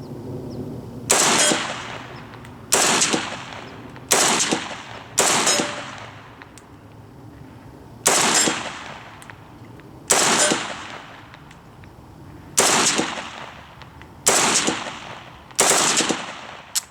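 An RPK-74 light machine gun with a homemade muzzle brake fires at an outdoor range in roughly ten loud, close bursts. Each burst lasts about a second and is separated by short pauses.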